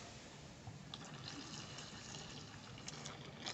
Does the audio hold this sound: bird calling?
no